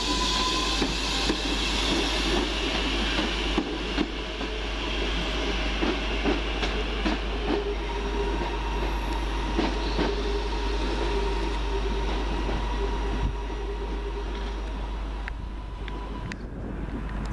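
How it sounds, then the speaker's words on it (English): A London Midland passenger train pulls out of the station, a continuous rumbling roll with clicking wheels and a faint squeal, steady and fairly close, with no voices. "Now leaving the 12:19 London Midland service to Walsall via Birmingham New Street."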